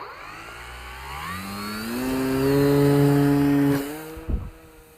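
A Dynam Sonic 185 RC airplane's electric motor spins up to about two-thirds throttle, a whining buzz that climbs steadily in pitch and loudness, holds briefly, then cuts off, followed by a short thump.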